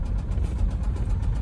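A Ford engine fitted after a motor swap runs steadily close by, a low continuous rumble with an even pulsing throb.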